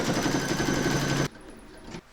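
An embroidery machine stitching out a keyring pouch for an inhaler, a loud, steady, rapid needle chatter for over a second that stops abruptly, leaving quiet room noise.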